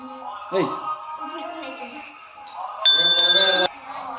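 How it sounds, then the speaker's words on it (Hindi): Metal bell rung at a shrine, a bright sustained ring lasting under a second over outdoor ambience and background talk, with a softer clink heard earlier. "घंटा बजो"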